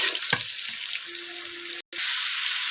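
Cauliflower and potatoes sautéing in a pan, a steady bright sizzle with a stirring scrape near the start, continuous and close, with a brief dropout near the end.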